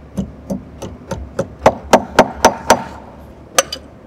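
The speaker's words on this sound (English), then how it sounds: "This is proper use of a hammer." A hammer strikes a surface about a dozen times in a steady, fairly quick rhythm, with a short pause before a final couple of blows.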